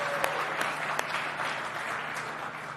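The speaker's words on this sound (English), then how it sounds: "How about another round of applause for that Gwen Moore" A crowd applauds Gwen Moore at a Wisconsin Black Chamber of Commerce event, a steady wash of clapping from an indoor audience with a few louder individual claps, fading slightly toward the end.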